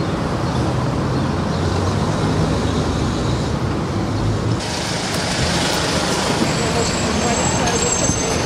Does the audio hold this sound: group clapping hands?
no